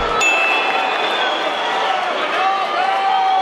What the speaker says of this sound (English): Everybody's booing.